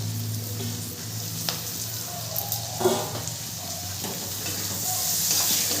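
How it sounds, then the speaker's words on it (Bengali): Onion and garlic sizzling in a pan for Punjabi-style mustard greens, with chopped tomato added and stirred in: a steady close fry hiss under scraping spoon strokes and a few clacks against the pan. "পেঁয়াজ রসুন ভালো করে ভাজা ভাজা হয়ে গেছে, এরপরে দিয়ে দেবো কেটে রাখা টমেটোটা"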